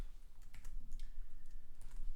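Computer keyboard keys tapped while writing code for a Flask web app, a short run of light, quick clicks at close range with no talking.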